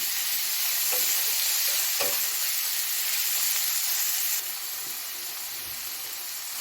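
Chicken mince filling for banjo cutlets fries in a pan over a medium-low gas flame, with a constant close sizzle and occasional scraping stirs that soften toward the end.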